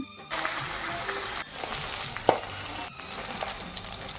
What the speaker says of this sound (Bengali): প্রথমে মাছটাকে নুন হলুদ দিয়ে লাল লাল করে ভেজে নিলাম।